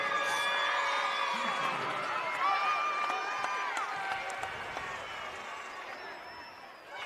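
Crowd at a girls' state semifinal high school basketball game applauding and cheering a departing player, a steady dense roar of clapping and voices throughout with some whistle-like tones, tapering slightly near the end.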